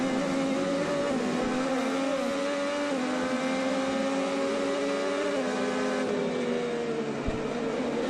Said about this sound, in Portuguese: Vamos ouvir o motor dele na freada? Repara como ele tira o pé antes do acelerador e depois ele freia.